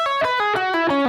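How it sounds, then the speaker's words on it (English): A distorted electric guitar is played open without palm muting, a fast run of bright, ringing, overdriven picked notes with a sustained harmonic-rich tone, close and loud. "If I don't palm mute it, it sounds like this."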